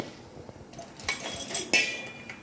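Fried food scraped and moved from a pan into a mixer jar, with close metallic clinks and scraping of a utensil against cookware in a few quick strokes, no talking.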